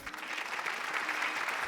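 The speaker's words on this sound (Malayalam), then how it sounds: "നല്ലൊരു കൈയടി പ്ലീസ്" Studio audience on a Malayalam TV game show breaking into steady, dense applause that holds at an even level throughout, with no voices standing out.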